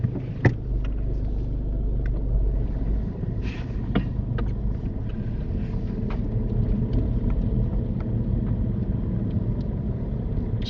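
A car pulls out of a housing estate during a driving lesson, its engine giving a steady low rumble from inside the cabin with a few faint clicks and knocks over it, and nobody speaking.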